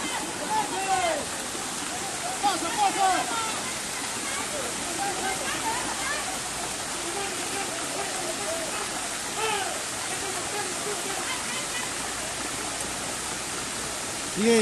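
Muddy floodwater from a huayco rushes past in a dense, continuous roar, loud and close, with voices speaking faintly beneath the torrent.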